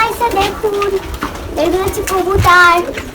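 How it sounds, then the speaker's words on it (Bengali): Pigeons cooing near a home coop, soft coos heard close by beneath people talking throughout. "এই যে এগুলা সব আমার ভাসুরের কবুতর"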